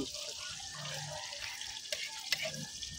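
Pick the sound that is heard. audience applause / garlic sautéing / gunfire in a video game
garlic sautéing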